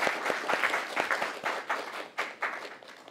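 An audience at an academic award ceremony in Korea claps in a burst of applause, many hands beating in quick, uneven rhythm, fairly close and loud, gradually thinning out toward the end.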